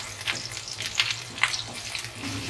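A green coriander tempering (bhagar) frying in a pan for village-style sarson ka saag crackles and sizzles close by in uneven bursts.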